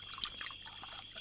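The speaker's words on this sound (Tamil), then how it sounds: "ஃபுல்லா ஊத்து." Liquor is poured into a glass: a faint, continuous bubbling trickle of liquid, soft and close, with no voices over it.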